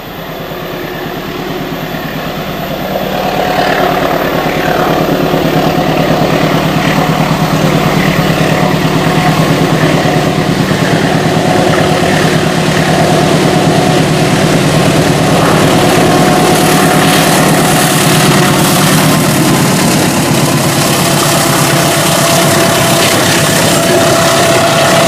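A heavy engine drones loudly and continuously for a long stretch, a deep steady rumble that swells early and then holds.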